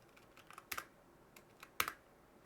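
A command typed on a computer keyboard, quiet scattered key taps with two sharper clacks close by in a hushed room.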